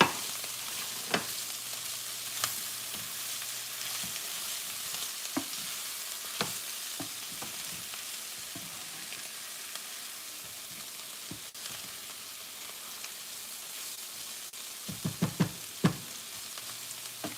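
Corn sears in a hot pan with a steady, even sizzle and frying hiss throughout, punctuated by occasional scrapes and clicks of stirring, close and moderately loud with no talking.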